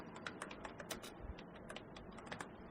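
Keys tapped on a computer keyboard as search terms are entered, a quick irregular patter of light clicks, faint and close, with no talking.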